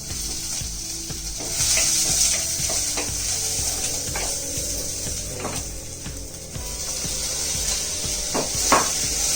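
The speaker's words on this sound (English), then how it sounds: "We're just slightly roasting them, giving a very slight bit of color" Garlic and ginger pieces roasting in a hot pan for mutton xacuti, a steady close sizzle with repeated scraping and clicking of a spoon stirring against the pan.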